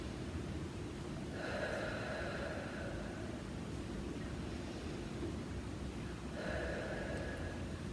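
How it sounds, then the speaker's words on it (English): Two slow, deep breaths taken during an arm and triceps stretch, each a soft, airy inhale-exhale swell that stands out clearly over a steady hissing background. "And 2 deep breaths here."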